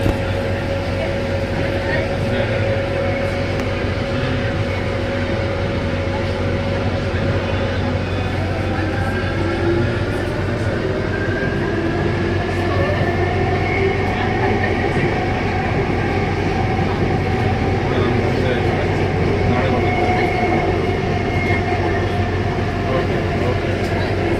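A Bangalore metro train carriage on the move, with a steady low rumble and a faint whine rising and falling for the whole ride.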